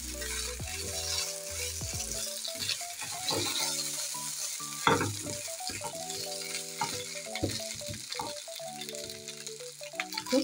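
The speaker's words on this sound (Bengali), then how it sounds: "গাইস এখন আমি সবগুলোকে মিশিয়ে নিব ভালোভাবে।" Vegetables stir-fried with soy sauce in a pan, a soft sizzle beneath frequent scraping and clinking of the spatula being mixed through, close but fairly quiet, with tonal music playing over it.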